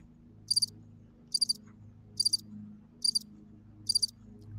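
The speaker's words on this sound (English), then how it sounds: "Crickets" Crickets chirping in five evenly spaced bursts, each a quick triple trill, clear and close against a faint low hum, no voices.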